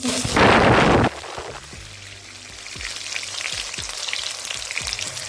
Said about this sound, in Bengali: এবার দিয়ে দেবো দুটো বড় সাইজের পেঁয়াজ আমি